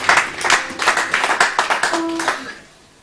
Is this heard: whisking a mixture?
no